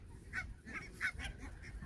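Waterfowl on the water near the Royal Palace in Sweden, giving a few quiet nasal honks in quick succession against faint background noise.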